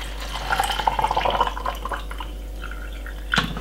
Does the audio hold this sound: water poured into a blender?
yes